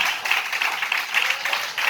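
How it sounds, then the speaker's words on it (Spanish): Congregation applauding in church during a Sunday service, a steady dense wash of many hands clapping continuously throughout, moderately loud and fairly close, with no talk over it. "Den un aplauso a Jesús en esta mañana."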